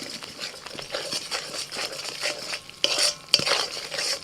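Spice paste of turmeric, Kashmiri chili, cumin and coriander powders fried for a mushroom masala curry, with a spoon scraping and stirring it in the pan in repeated strokes under a low sizzle and a couple of louder clanks near the end.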